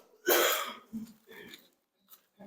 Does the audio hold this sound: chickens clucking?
no